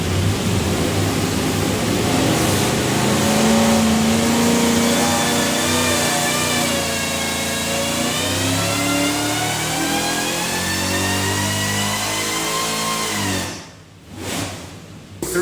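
A Whipple-supercharged LS engine in a '66 Chevelle runs on a dyno with Holley Terminator X fuel management, revving in a long rising pull to a loud, strained peak before cutting off sharply near the end.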